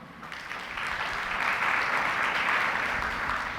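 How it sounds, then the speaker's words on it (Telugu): A church congregation at Sunday worship claps hands together, a dense, continuous wash of applause that swells and holds for a few seconds. "చప్పట్లు కొట్టండి."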